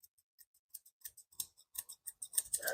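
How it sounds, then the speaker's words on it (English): Grooming shears snipping through a Kerry Blue Terrier's coat, a quiet series of crisp metallic cuts in an irregular rhythm, close up and alone, speeding up toward the end. "I'm just going to make sure that I hold my shears level and trim"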